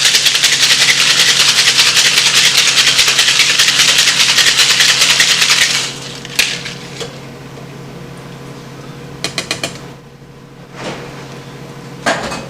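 A cocktail shaker full of ice is shaken hard while a White Lady is mixed, producing a loud, steady rattling wash for about six seconds before it stops, followed by a few faint knocks.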